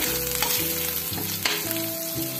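Garlic fries in oil for an oyster curry, giving a close, steady sizzle beneath rhythmic tuneful background music.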